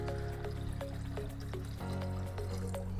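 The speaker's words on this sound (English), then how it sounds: "So now let's pour in some water and try boiling it for the first time." Water pours into an Ovente electric kettle, a steady close trickle with repeated drips and a shifting liquid tone as it fills.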